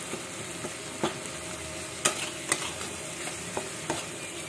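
Tomatoes cooking in a pan for paneer bhurji, a steady soft sizzle under scattered sharp clicks of a spoon scraping and stirring, close and fairly quiet, with no talking.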